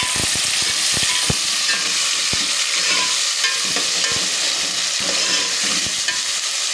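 Green chillies and tomatoes fry with garlic and onions in a pan, a loud continuous sizzle broken by occasional sharp taps and scrapes of a spoon stirring.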